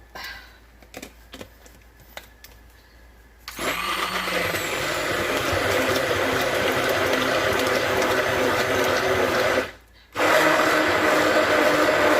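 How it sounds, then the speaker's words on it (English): An immersion blender whips banana split cake pudding after a few light clicks and taps, then a loud, steady whirring runs for about six seconds, stops briefly, and starts again. "I'm going to use the emulsion blender just to get it nice and whippy."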